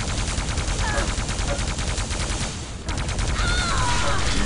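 Railgun shots crack repeatedly through a team deathmatch video game match, rapid and dense weapon fire with no gaps, loud and continuous across the whole stretch.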